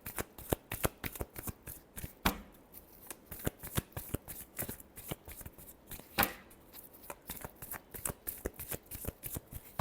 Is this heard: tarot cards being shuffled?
yes